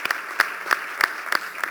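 An audience at a talk on the 2030 Agenda and the environment claps in a brief, sparse burst of applause, with only a few separate claps at a moderate distance.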